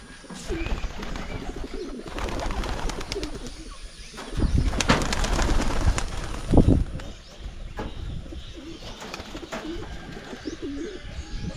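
A crowd of kept pigeons on a provincial farm coos continuously and fairly close, with overlapping soft calls and occasional wing flutters.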